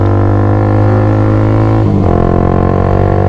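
A Honda CBR150 with a GP1 aftermarket exhaust running loud and close with a buzzy, harmonic-rich drone, briefly blipped up in revs about midway and then settling back to a steady roar.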